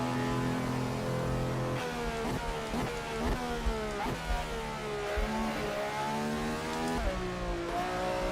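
A V12 engine taken from the RSS 70s Formula car in a racing game, revving loud and close with a high, buzzing whine that climbs and drops through repeated gear shifts, steady and without talk.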